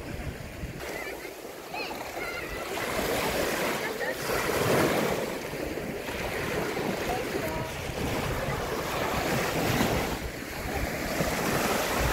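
Sea surf rolls onto the beach at Gdańsk, Poland, in fine weather, a steady broadband wash of breaking waves with wind buffeting the microphone, continuous and moderately loud throughout.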